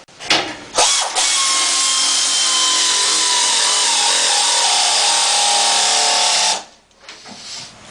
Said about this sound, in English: you get an air wrench and tighten each one up